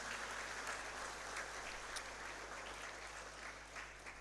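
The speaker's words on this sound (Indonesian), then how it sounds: "Mari kita beri tepuk tangan yang meriah untuk mereka." An audience applauding graduates at a university graduation ceremony, a dense, even patter of many hands heard at a distance in a large hall, faint and sustained throughout.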